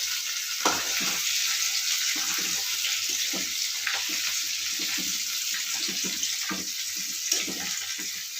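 A pangas fish head fries in hot oil with a dense, steady sizzle, broken by repeated sharp crackles and pops from close by.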